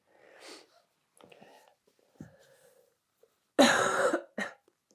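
One sharp, raspy cough near the microphone in a quiet exercise class, preceded by faint breathy throat sounds and followed by a shorter second cough.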